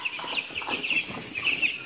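A dense chorus of high peeping and soft clucking from many young Ross 308 broiler chicks in a brooder, constant and close, with no voices.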